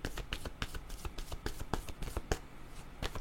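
Tarot-style reading cards being shuffled and drawn, a quick run of crisp, close flicks and slaps with uneven rhythm, no talking over them.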